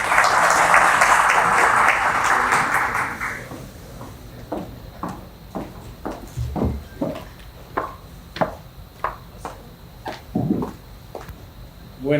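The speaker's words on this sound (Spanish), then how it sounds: "Les recibimos con sus aplausos." An audience claps at a book launch; dense applause fills the first few seconds, then fades into scattered, sparse claps and knocks.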